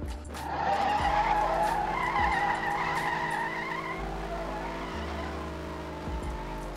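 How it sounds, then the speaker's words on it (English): An engine-swapped turbocharged old Lada drag car makes a standing launch, its engine roaring loud and close with rising revs and sharp gear-change dips, while the tires squeal and skid throughout. "let's just try a standing launch here and see"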